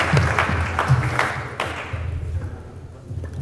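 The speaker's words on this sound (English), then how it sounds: "Clap for him, Mr. Obi, and the family." Guests at a wedding clap for the family, a loose burst of applause with sharp individual hand claps that fades into a quieter murmuring room.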